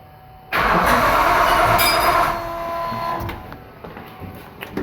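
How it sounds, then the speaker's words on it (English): A 1999 Nissan Frontier turbo engine cranks briefly and fires up close and loud, revving hard for about two seconds before dropping to a rough, rattly idle. "go ahead and try and crank it over"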